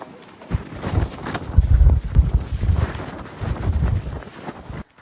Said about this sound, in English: really cold and windy